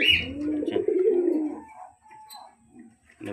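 Pigeons coo close by in a low, wavering call, followed by softer chirps and faint background sounds.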